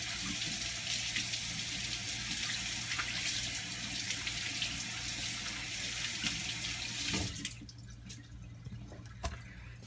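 Raw chicken is rinsed under a running kitchen tap, giving a steady splashing water hiss for several seconds. The flow then stops and a few drips and clinks follow in a quieter sink.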